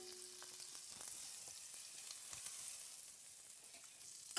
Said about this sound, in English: send a small piece of butter to the pan